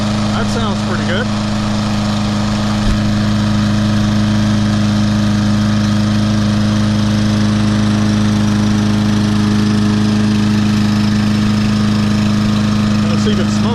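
A Troy-Bilt TB200 lawn mower engine with a 625EX Series motor idles steadily and loudly close by, a constant low drone held throughout, with brief speech over it near the start.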